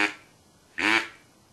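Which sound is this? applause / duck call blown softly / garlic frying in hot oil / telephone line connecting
duck call blown softly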